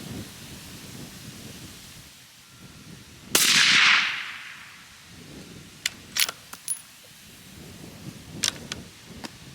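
A single sharp rifle shot from a Seekins Precision Element cracks once, followed by a short burst of broadband noise, then a few faint clicks in a quiet outdoor setting with no speech.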